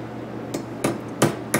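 A bandsaw blade is tapped into a fixture using a piece of aluminum, giving four sharp, close metallic taps spaced about a third of a second apart over a low steady hum.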